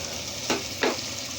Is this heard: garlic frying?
yes